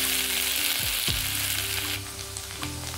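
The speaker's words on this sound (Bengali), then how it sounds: "আমি ঢেঁড়স আলু ভাজতে বসিয়ে দিয়েছি।" Okra and potatoes fry in hot oil in a home kitchen, giving a steady close sizzle with brief stirring scrapes partway through; no one speaks.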